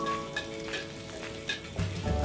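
Shallots and garlic fry in a pan while being stirred, a close, steady sizzle with a few light scrapes from the stirring, no voices.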